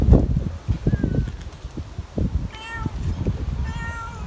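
Several high, wavering kitten meows, some drawn out, rise over rustling and low rumble of wind outdoors, with scattered soft thumps nearby as the kittens are fed.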